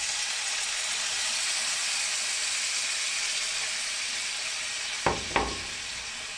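Pork ribs for Chinese braised ribs sizzle steadily in hot oil and sauce in a pan, a constant bright hiss close up, broken near the end by two quick scraping stirs.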